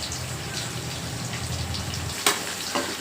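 Eggplant frying in plenty of oil gives a steady, close sizzle with a low rumble under it for the first two seconds, then two sharp crackling pops near the end.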